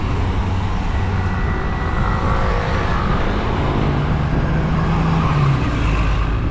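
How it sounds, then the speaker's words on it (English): Steady road traffic in a jam along Avenida Panorâmica do Lago Sai Van, a waterfront street in Macau, with a continuous dense rumble of idling and creeping cars and trucks, fairly loud and unbroken, no talking. "Got a little traffic jam there."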